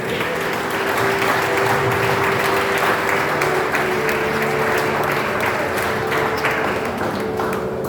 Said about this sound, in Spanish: Denle fuerte aplauso al Señor.